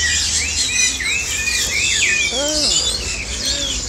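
Caged birds at the Mong Kok bird market in Hong Kong chirp and trill in a dense, steady chorus of high tweets and whistled calls, with a brief spoken exclamation partway through.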